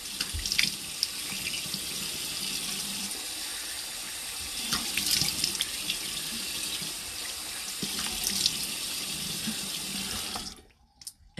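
Water runs steadily from a tap into a sink while a makeup sponge is rinsed, a close, even splashing hiss with small bursts as the sponge moves under the stream, cutting off abruptly at the end.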